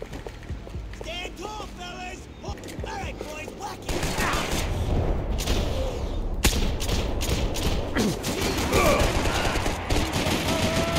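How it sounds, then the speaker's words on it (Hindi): Rapid bursts of grenade launcher fire in Max Payne 3 crackle over busy, noisy action, with a voice talking excitedly through the first few seconds. "grenade launcher"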